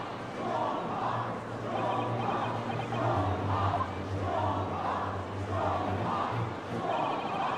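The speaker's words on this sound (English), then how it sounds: "What y'all cheering for?" A courtroom crowd cheering in the video game Great Ace Attorney 2, loud voices roaring together in repeated rhythmic swells about once a second, continuous and close.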